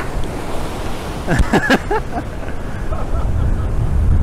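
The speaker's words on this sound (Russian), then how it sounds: "Друзья, ну волны действительно гигантские." Giant storm waves crash on the Crimean shore with strong wind, a loud continuous roar of surf and buffeting wind noise up close, with a brief higher-pitched vocal sound cutting through midway.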